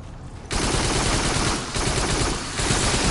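Shotgun fire in the VR shooter Farpoint: dense, loud, continuous blasting and battle noise with brief dips, no talk.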